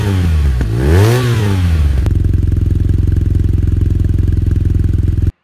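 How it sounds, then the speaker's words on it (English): A BMW R nineT motorcycle exhaust revs up and down in rising and falling sweeps, then settles into a loud, steady, throbbing rumble close by before cutting off abruptly. "Here's a clip of the exhaust on this beautiful machine."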